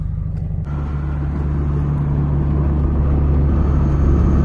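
Steady low engine drone and road rumble from inside a Subaru GDB Impreza cruising on the road, constant and close throughout with no talking.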